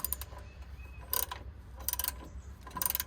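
Ratchet tightening transfer case bolts on a second-generation Dodge Ram, giving three short bursts of quick metallic clicking over a low background rumble.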